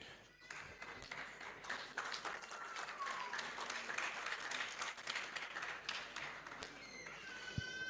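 Applause with a standing ovation at a university matriculation ceremony and lecture, a fairly quiet, steady patter of many hands sustained throughout, with faint voices and murmuring mixed in and a brief whistle-like tone near the end.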